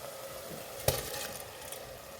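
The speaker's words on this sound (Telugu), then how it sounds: "ఇప్పుడు రైస్ను మంచిగా మిక్స్ చేసుకోండి" Rice stirred into hot oil in a pressure cooker for palak rice, giving a steady soft sizzle with one sharp clink of a spoon against the pot near the start.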